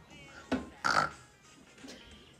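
A snorting, grunting pig-like oink comes in two short, close bursts followed by quieter trailing grunts, likely a voice imitating the animal during a children's animal-sounds game.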